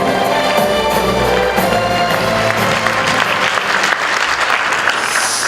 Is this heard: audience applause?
yes